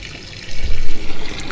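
Water runs and splashes while cut chicken pieces are rinsed clean, a short continuous wash that swells after a quiet start, close and fairly loud with no talking.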